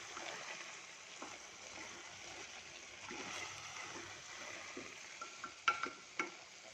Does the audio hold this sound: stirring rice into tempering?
yes